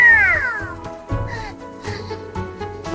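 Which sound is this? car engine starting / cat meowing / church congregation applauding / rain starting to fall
cat meowing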